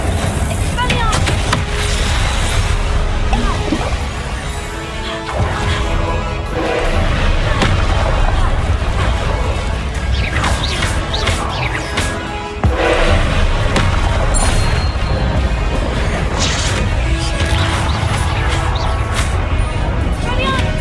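Spell casting effects in the Hogwarts Legacy video game on PC: a dense, continuous stream of booming blasts, crashes and thuds, loud and busy for the whole stretch, with a voice talking over the combat.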